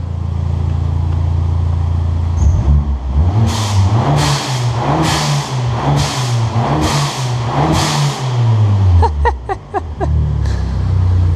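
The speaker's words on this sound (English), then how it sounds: "It's a adjustable blow valve." An idling Abarth Punto Evo engine blips its throttle six times in a steady rhythm, each rev ending in a hissing release from an adjustable blow-off valve, then a quick series of sharp fluttering chirps.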